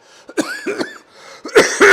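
Several harsh, close coughs in quick succession, with a raspy throaty sound between them and the loudest bursts at the end.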